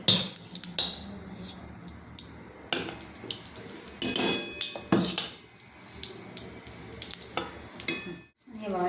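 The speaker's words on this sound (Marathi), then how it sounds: "आता यात मी बेसन घालते" Gram flour (besan) goes into hot ghee in a pan and is stirred, with repeated scraping strokes of a spoon against metal over a soft frying sizzle, close and fairly loud, with no talking.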